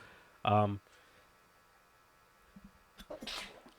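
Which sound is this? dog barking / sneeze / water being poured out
sneeze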